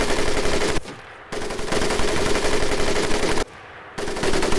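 Rapid automatic gunfire in the 2004 PC game Medal of Honor Pacific Assault, loud and continuous bursts broken by two brief pauses, dense and harsh throughout.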